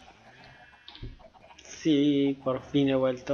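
Chickens in the video game Minecraft give short clucks in several quick bursts, fairly loud and close, after someone speaks Spanish over faint game background sounds.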